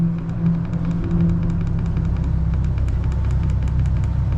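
A 2019 Vrestliner boat's outboard motor runs steadily on the water, a loud continuous low drone with a faint ticking patter above it and no pauses.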